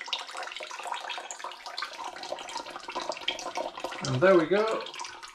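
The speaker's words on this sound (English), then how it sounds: "Bubbles in the siphoning tube. Tells me that the siphoning is over." Beer being siphoned through a tube while brewing an all-grain rauchporter, a soft gurgling liquid flow that ends in a short burst of bubbling as the tube runs dry, with someone speaking briefly over it.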